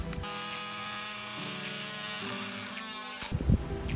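A small power tool cuts off fasteners holding a board under a fiberglass boat hull, a steady high whine that shifts pitch in steps as it bites, ending in a few knocks.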